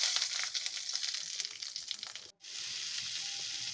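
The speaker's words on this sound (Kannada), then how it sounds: "ಎಣ್ಣೆ ಹಾಕಿ, ಸಾಸಿವೆ, ಕರಿಬೇವಿನ ಸೊಪ್ಪು ಹಾಕಿ, ಮೆಣಸಿನ್ಕಾಯಿ ಹಾಕಿ ಫ್ರೈ ಮಾಡಬೇಕು." Mustard seeds, curry leaves and chilies frying in hot oil, a steady close crackling sizzle with a brief dropout partway through.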